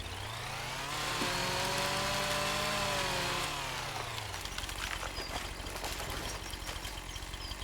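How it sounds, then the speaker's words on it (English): A chainsaw cutting trees in Farming Simulator 25 revs up to a loud steady whine, holds, then drops as the cut finishes, followed by crackling wood and rustling debris. "Okay, let's grab that chainsaw again."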